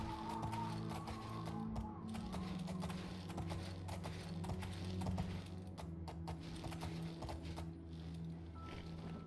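Horse hooves clop steadily in the video game Oblivion, a continuous rhythmic patter of hoofbeats over game music and ambient tones, moderately quiet throughout.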